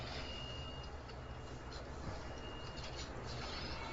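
A train arrives at a platform in the Bullet Echo game as a steady low rumble with faint squealing tones, fairly quiet and continuous throughout.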